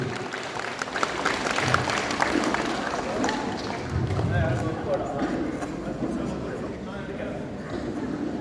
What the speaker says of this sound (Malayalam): നല്ലൊരു കയ്യടി കൊടുക്കാം ഈ മഹാപ്രതിഭയ്ക്ക്